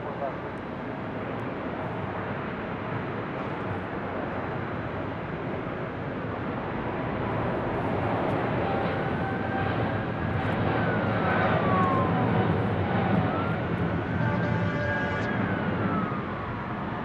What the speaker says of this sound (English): we do have the Turkish Airlines 777-300ER rolling down 25 right there on the south side